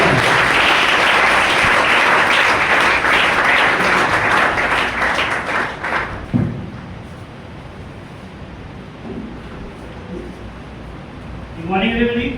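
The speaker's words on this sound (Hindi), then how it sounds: "तो एक बार जोरदार तालियों से स्वागत करेंगे" An audience at an indoor business presentation in Panipat, Haryana, breaks into loud, dense applause welcoming a speaker, sustained for several seconds before fading out, then a voice begins talking.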